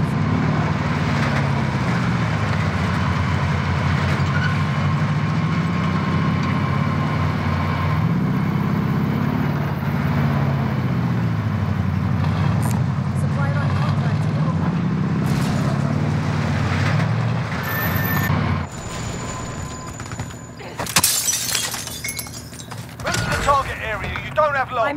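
Vehicle engine drone in Call of Duty Warzone, a steady low rumble with wavering pitch that runs loud for most of the stretch, then drops off near the end into scattered mechanical clatter and clicks.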